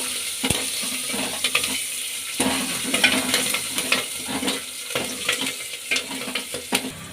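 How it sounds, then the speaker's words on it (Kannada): Asafoetida and green chillies fry in hot oil for mango kadhi, crackling in a soft, steady sizzle. Repeated stirring scrapes and light utensil taps break in at irregular intervals. "ಹಿಂಗು ಹಸಿಮೆಣಸಿನ್ಕಾಯಿ ಫ್ರೈ ಹಾಕಿ"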